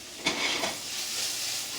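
Food hitting a hot pan sets off a sharp burst of sizzling that settles into a steady, close hiss of frying.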